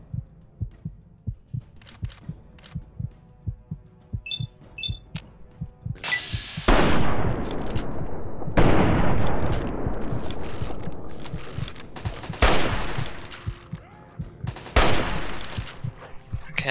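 Minigun fire in the video game Fallout 3, sustained roaring bursts of rapid gunfire that come in long waves, loud and close, with rhythmic thumping and short gaps between bursts.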